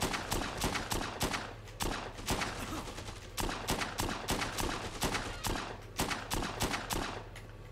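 Rapid handgun fire in the zombie game Dead Rising 2, a long run of sharp, loud shots at a quick, uneven rhythm echoing in a tunnel, over a low steady rumble with no talk.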